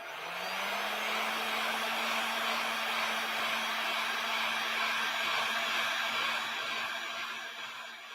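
A craft heat tool or dryer blowing steadily on a freshly painted coat of a craft project, a close, constant whooshing roar with a faint motor whine that holds for the whole stretch before easing slightly at the end, no voices.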